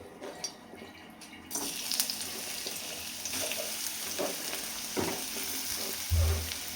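Bitter gourd pieces sizzle in hot oil in a pan, a continuous crackling hiss with scattered louder pops and a stirring clatter, and a low thump near the end.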